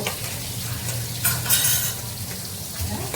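Marinated fish dropped into hot oil in a home kitchen, a close, continuous sizzle and crackle with brief louder hisses and a stirring clink, no talking.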